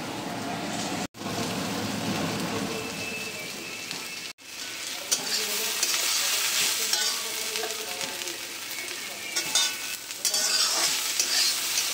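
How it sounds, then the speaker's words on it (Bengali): Potatoes sizzle and crackle steadily in a hot iron wok while being stirred, with scraping stir sounds throughout and two brief pauses near the start. "দেখো আলু ভাজছি।"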